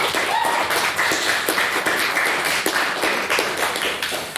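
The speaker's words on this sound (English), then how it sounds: "So give her a round of applause." Steady audience applause fills the room, dense overlapping claps sustained at an even level throughout, with no voice over it.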